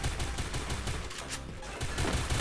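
Rapid gunfire from the Free Fire video game rattles in a continuous close burst, with short pulsing shots running throughout and a brief dip before the firing resumes at full loudness.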